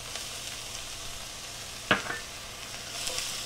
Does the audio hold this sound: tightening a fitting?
no